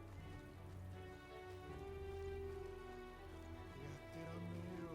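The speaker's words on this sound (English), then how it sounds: "Oh, it's raining in Martyra." Rain falling in a town in the fantasy role-playing video game Metaphor: ReFantazio, a steady soft patter that runs the whole time beneath a sustained musical score, with no talking.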